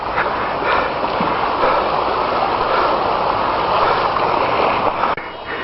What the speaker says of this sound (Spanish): El agua está pasando para las casas.